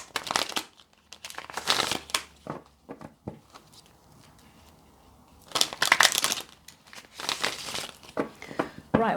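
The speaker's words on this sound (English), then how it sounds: "Let's give this a bit more of a shuffle" Tarot cards shuffled by hand in bursts of crisp riffling and crinkling, loudest at the start and again near the end, with a quieter stretch between and no talk.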